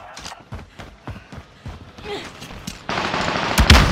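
Rapid gunfire in the Call of Duty Warzone battle royale game, a string of sharp shots in quick bursts that swell into a louder, denser barrage at the end.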